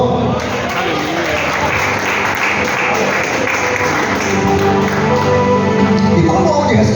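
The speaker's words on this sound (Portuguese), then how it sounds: "Aplauda o nome do Senhor." A church congregation claps loudly in a sustained wash of applause during a sermon, with some voices mixed in underneath.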